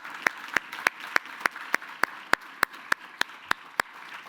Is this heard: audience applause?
yes